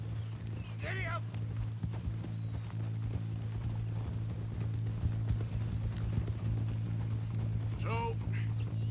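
Horse hooves clip-clop at a steady riding gait in Red Dead Redemption 2, under a low droning game soundtrack, with a brief whinny-like sound near the start and again near the end.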